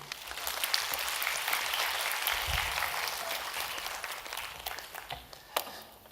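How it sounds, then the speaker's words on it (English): Audience applause at an architecture talk in Kuala Lumpur, a steady broad wash of clapping from a crowd that thins slightly toward the end. "Let us give a round of applause"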